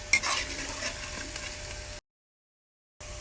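Marinated shrimp go into sizzling garlic butter in a pan, giving a steady close frying hiss with a few stirring clicks, then a brief cut to silence before the sizzle resumes.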